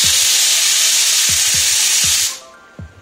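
A pressure cooker with chicken curry inside lets out a loud, steady whistling hiss of steam for a little over two seconds before it cuts off abruptly. Soft, regular knocks sound underneath, followed by a short rattle.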